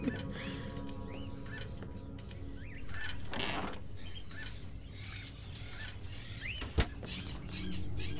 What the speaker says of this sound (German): Vögel sind einmalige Tiere. Sie können ihr ganzes Leben in einem Käfig verbringen und trotzdem noch fröhlich singen.